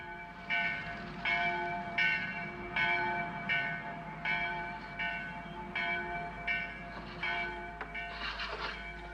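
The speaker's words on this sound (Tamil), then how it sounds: "சர்ச் பெல் சத்தம் கேக்குது பத்தியா?" Church bell tolls ring out in a village in an animated Heidi episode. About a dozen evenly spaced metallic strikes sound at a steady, unhurried pace with a low rumble underneath.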